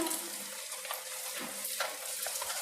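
Lumpia frying one by one in hot oil in a wok give off a soft, steady sizzle and crackle, faint and close, with no voices.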